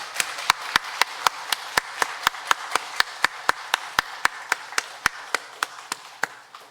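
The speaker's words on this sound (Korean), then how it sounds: "우리도 힘찬 박수로 하나님의 영광 돌립니다" A church congregation at a Sunday worship service claps to glorify God, sounding as a steady, evenly spaced run of sharp, separate claps at a quick regular rhythm, fairly near and free of talk.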